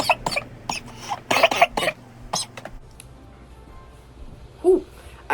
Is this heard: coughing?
yes